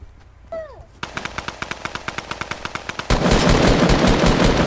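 Tommy gun fire in Fortnite: a rapid burst of about twenty evenly spaced close shots, preceded by a brief pickup chime and followed by a louder, sustained roar of gunfire.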